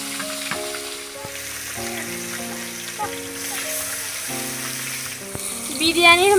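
Chicken pieces for biryani fry in a pan with a steady, close sizzle that stays partly buried under loud music with sustained tones.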